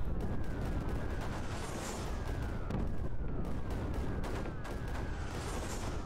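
Cannons firing in the video game Creeper World 4, a rapid continuous stream of overlapping synthetic shots with occasional higher whooshes, steady and dense throughout with no talking.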